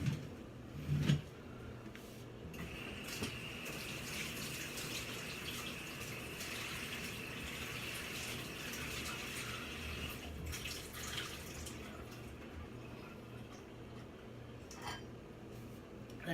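Water runs steadily from a kitchen tap over an eggplant being rinsed, a faint continuous stream with occasional clinks of dishes, and no one talks.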